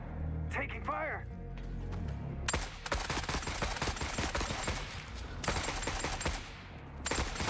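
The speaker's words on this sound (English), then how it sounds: "Taking fire." Sustained automatic gunfire in the video game The Forever Winter, dense bursts of shots rattling almost continuously over several seconds after a brief quieter moment with a voice.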